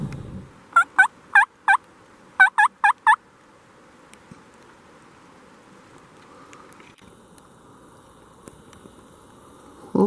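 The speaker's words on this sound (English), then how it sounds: "Well, turkeys seem to be out today." Wild turkeys gobble outdoors on an Oregon spring hunt, two quick bursts of four sharp rattling gobbles each, moderately distant over quiet ambient hiss.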